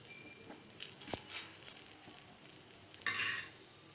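A thick potato chapathi cooks on a pan as oil is added on top, giving a faint, soft sizzle with a few light scrapes and a brief louder hiss near the end.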